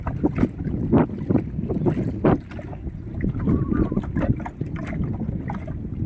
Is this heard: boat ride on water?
yes